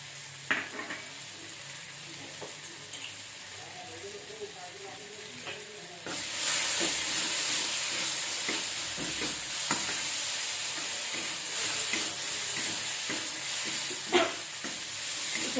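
Salt and turmeric frying in a pan while being stirred for coriander leaf chutney, a quieter sizzle that jumps louder about six seconds in, with repeated spoon scrapes and taps and no talking.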